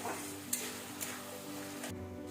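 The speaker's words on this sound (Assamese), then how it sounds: "এতিয়া আলুখিনি দি মই এইখিনি ভাজি ল'ম আকৌ অলপ সময় 5 মিনিট মান সময় এইদৰে ভাজি থাকিম আৰু লৰাই থাকিম" Potatoes with drumstick flowers frying in a pan, a soft steady sizzle with a few light scraping stirs, quiet and close.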